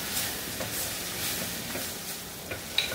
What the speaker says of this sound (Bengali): এর সাথে আমি 1 মিনিটের মতো ভেজে নিই